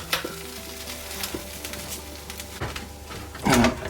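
Turkish sanayi toast, a cheese toast with sucuk, sizzles loudly in a hot pan while being flipped, with clatters and scrapes of the utensil and a burst of frying near the end.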